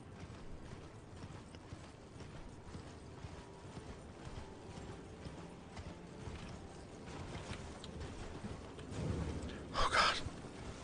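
Horse hooves clip-clop in a steady, quick galloping rhythm from the Elden Ring mount, faint and continuous across the span, with a louder burst of effects near the end.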